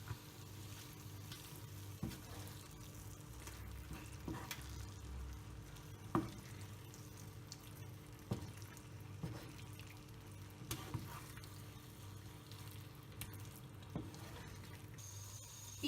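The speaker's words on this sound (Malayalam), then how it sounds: "ചിക്കൻ നന്നായി ഈ മസാലയിലേക്ക് മിക്സ് ചെയ്ത് കൊടുക്കാം." Chicken pieces sizzle steadily in a pan of masala for a chicken roast, with soft stirring clacks of a spoon scraping through at irregular intervals under a constant frying hiss.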